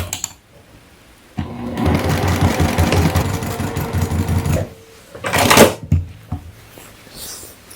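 A sewing machine stitches a bag's lining and exterior panel together in a loud, rapid whirring run of a few seconds, then stops, followed by a short second burst and light handling noises.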